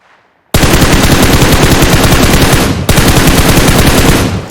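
Sustained automatic gunfire in the battle royale shooter PUBG, a loud continuous burst of rapid shots with a brief break near the middle, then more firing that trails off, with no talking.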